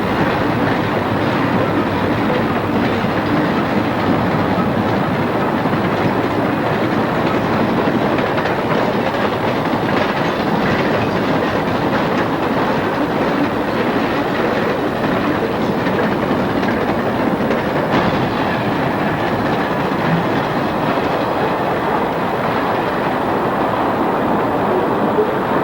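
D&H freight train MB-5, led by three Alco locomotives, passes near Owego, New York at about 50 mph: a loud, steady roar of engines and rolling cars with rhythmic clickety-clack of wheels sustained throughout.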